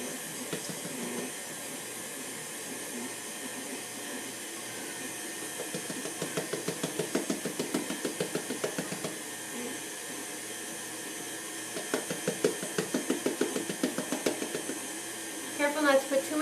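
Electric mixer whirring steadily as flour is worked into rhubarb bread batter, a continuous motor drone with rhythmic surges in the latter part, alone without talk.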